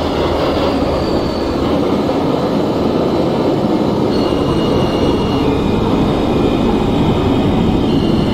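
A New York M subway train in the OpenBVE simulator rumbles along steadily and loudly, wheels clattering, with thin metallic squeals drifting above the continuous roar; no voices.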